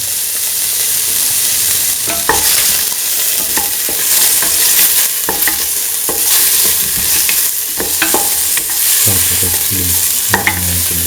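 Shallots and salt sizzle steadily in a hot pan for a stew with chickpeas, snake gourd and coconut milk, with a spoon scraping and stirring in repeated clicks and knocks over the constant frying hiss.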